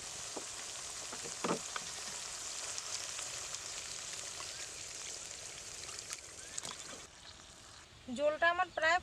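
Water hits mustard-paste spices frying in oil for a katla fish curry, setting off a steady close sizzle with a few sharp spits, ending in a brief louder bubbling burst.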